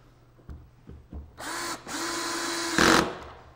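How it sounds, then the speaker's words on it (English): A power drill drives pocket-hole screws into a clamped trim board, a few short taps and whirs leading into a sustained whine that lasts about a second and a half, then a louder final burst, close and loud. "while I put the pocket screws in"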